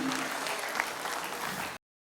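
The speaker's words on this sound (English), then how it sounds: "Please, a round of applause for my wife." Comedy show audience applauding for the performer's wife, a short burst of dense crowd clapping with a voice briefly audible underneath, cut off abruptly.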